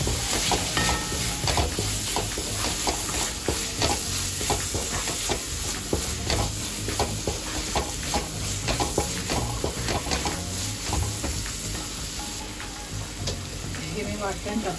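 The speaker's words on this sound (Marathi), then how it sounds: "त्याचा आपण चांगल्या प्रकारे ढवळून घेऊया." Red chili masala and garam masala spices stirred in a hot frying pan, a steady loud sizzle with scraping strokes of the spoon running throughout the whole stretch.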